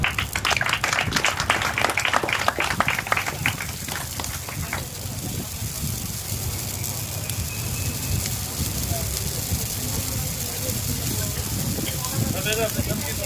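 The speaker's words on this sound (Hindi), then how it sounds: "मीनाक्षी तालियां बजा।" Devotees clap their hands rapidly at a maha yagya religious gathering, a brisk, dense patter for about four seconds. It then gives way to a steady hiss of background noise that lasts to the end.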